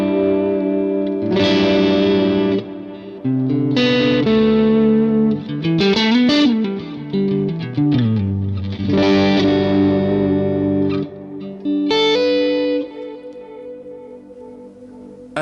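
Electric guitar through a Line 6 Helix Vox AC30 Top Boost amp model, playing chiming, slightly driven chords and short riffs in phrases with brief pauses between; bright and upfront, with no talking.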